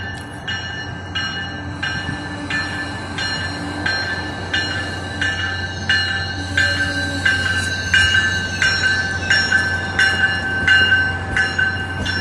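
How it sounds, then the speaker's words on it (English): An MBTA commuter train led by engine 1117, bell ringing, rolls slowly past with many cars, steady rumble punctuated by regular clacking of wheels over rail joints and a sustained tonal ring, close and continuous. "This train's going a little bit slower than usual. It has a lot of cars."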